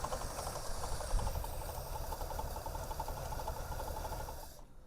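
A 1973 Pontiac LeMans V8 engine idles steadily right after its first start in over 30 years, a continuous rough rumble with a faint rhythmic pulse throughout, cutting off abruptly at the very end.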